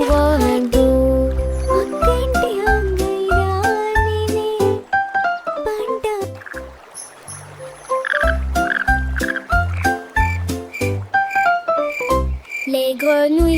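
Loud frog croaks repeat in a fast, bouncy rhythm over bright tuneful notes, with no one talking.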